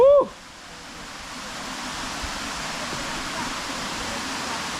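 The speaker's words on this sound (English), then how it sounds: "you can hear water running" Waterfall in St. Vincent and the Grenadines, a broad steady roar of rushing water that fills the scene after a brief voice at the start.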